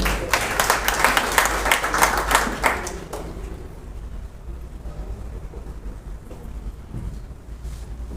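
Audience applause at a church gathering with a bishop present, a dense burst of clapping for about three seconds that then dies away into low room murmur.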